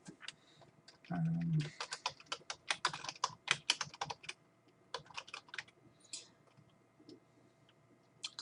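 Keys on a computer keyboard clatter in irregular runs of crisp taps, close and fairly quiet. A short low murmur sounds near the start, and the pauses between keystrokes fall silent.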